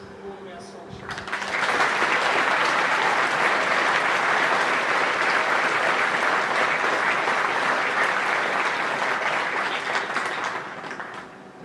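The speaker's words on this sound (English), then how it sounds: "Let's have one final round of applause for all of our scholarships." A school scholarship assembly audience at King's High School gives a long, full round of applause that rises quickly, holds steady and loud for several seconds, then tapers.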